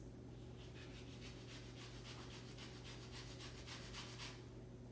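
Lemon peel is rubbed against a metal grater in a kitchen while making pizzelles, a steady, soft rasping with regular back-and-forth strokes over a constant low background hum.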